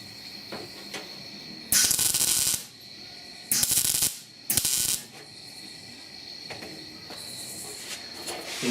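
Three short, harsh crackling bursts of tack welding on a patch panel for a 1969 Chevy C10 door, each lasting under a second and loud and close, separated by quieter shop ambience and light clinks.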